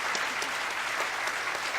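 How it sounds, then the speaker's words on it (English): Conference audience claps for a panel of speakers, a loud, steady burst of many hands filling the room throughout, with no voices over it. "Can we just give a big round of applause for these excellent panelists?"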